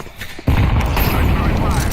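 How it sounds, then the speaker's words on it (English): A sudden heavy blast from a grenade in the video game Counter-Strike 2 breaks a brief quiet, followed by a loud rumbling roar of gunfire and explosions that carries on to the end. "I'm throwing a grenade."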